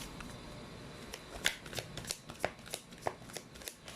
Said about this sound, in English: Let's pull up more cards here.